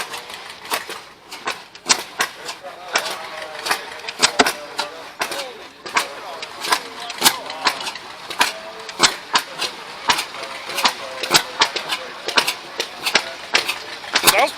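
An old Ajax hit-and-miss engine with a straight pipe fires sharp, loud exhaust pops in an uneven rhythm, clustered bursts broken by short gaps, with a voice speaking occasionally between the blasts.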